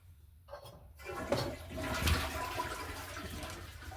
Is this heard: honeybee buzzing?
no